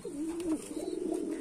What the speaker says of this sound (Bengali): এই যে নর কবুতরটি পুরাপুরিভাবে ডাকা শুরু করে দিছে